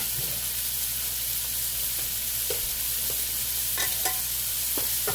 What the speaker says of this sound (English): we're gonna let this meat all fry up